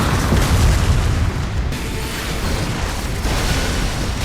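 An anime explosion effect with cube-shaped debris flying up: a dense, loud, sustained roaring blast that rumbles continuously with a slight dip partway through, no voices.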